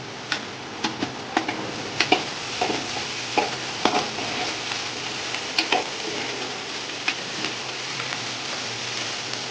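Onions cooking with salt in a pot for chicken biryani, giving a steady soft sizzle with repeated sharp ticks and clicks of stirring scattered through, moderately loud and close, no talking.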